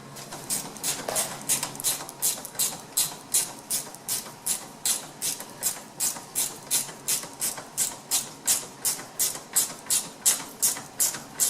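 A hand ratchet clicks in quick, even strokes, about two per second, driving bolts into the body of a 1995 Dodge Viper RT/10, close and steady with no talking.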